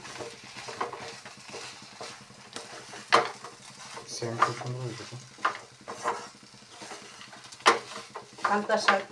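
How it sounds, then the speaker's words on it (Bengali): Kanta kochu and crab with green chillies and culantro leaves being stirred in a pan, with a steady scrape and clatter of the spoon over a low sizzle, in repeated strokes and a few louder knocks. "এখন ভালোভাবে মিশিয়ে নেব"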